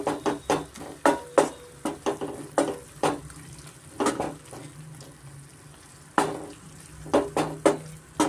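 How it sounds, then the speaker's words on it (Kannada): Tomato gravy frying on a medium flame for a jackfruit seed curry, with a spoon repeatedly scraping and stirring the pan in uneven bursts of clatter over a soft background sizzle. "ಮೀಡಿಯಂ ಫ್ಲೇಮಲ್ಲಿ ನಾವು ಫ್ರೈ ಮಾಡ್ಕೊಬೇಕಾಗತ್ತೆ"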